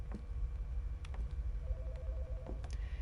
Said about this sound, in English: I am aware that the phone's ringing